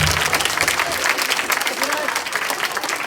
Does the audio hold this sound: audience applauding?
yes